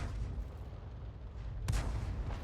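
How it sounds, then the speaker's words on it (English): Distant artillery fire in a tank battle video game featuring the M44 self-propelled gun, heard as a low rumbling boom with one sharper blast near the end over steady background noise. "we can see the enemy Arty firing as well"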